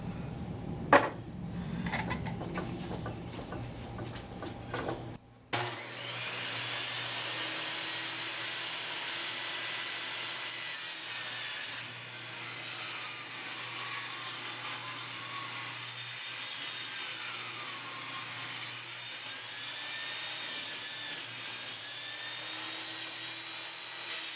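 A power saw rips an oak board lengthwise at a 45-degree bevel, starting with a couple of sharp knocks before settling into a steady, loud whirring cut that runs nearly the whole time.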